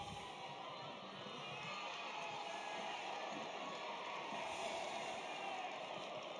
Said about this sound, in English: the crowd kick up in noise again to try and support their team